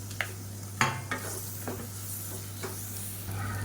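Tomatoes and broken green chillies fry in hot oil for biryani, giving a soft continuous sizzle under a low hum, punctuated by several distinct scraping knocks of a spoon stirring the pan, with no one talking.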